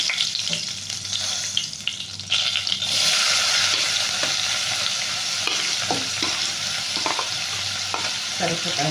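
Curry leaves dropped into hot oil set off a sudden, louder crackling sizzle that keeps going, mixed with the scrape of stirring.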